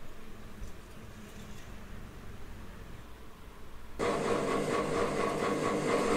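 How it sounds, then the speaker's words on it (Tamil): A gear hobbing machine spins its hob against a rotating gear blank, giving a steady broadband mechanical whir that jumps abruptly louder and brighter partway through and then holds at that higher level. "இது ஒரு ஹாப் வேகமாக சுற்றுது, கியர் பிளாங்க்கு சுற்றிக்கிட்டு இருக்கு."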